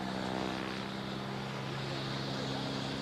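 A new Italian-built military helicopter performing at the 1998 Celje airshow, its steady, loud rotor and turbine drone filling the whole stretch without a break.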